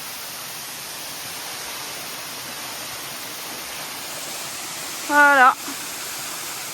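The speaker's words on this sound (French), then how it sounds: "La cascade est belle, hein, mais beaucoup plus sauvage pour le coup." A wild jungle waterfall gives off a steady, full rushing roar that fills the whole clip. A single short spoken word cuts in near the end.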